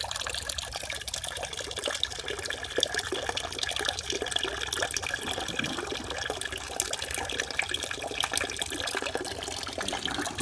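Cold water pours from a bucket into a container in a temperature and level control setup, a continuous close trickling and splashing flow with small drips, steady throughout and without speech.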